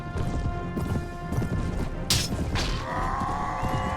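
Horse hooves clip-clop steadily under a rider on horseback in a medieval video game, with a sharp impact and a metallic ringing partway through, mixed with game sounds.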